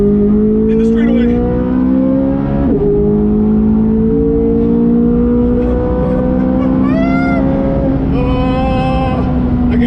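A Chevrolet C8 Z06 Corvette screams down a track straightaway, its engine note climbing steadily through long gear pulls with a brief shift dip, loud and close throughout.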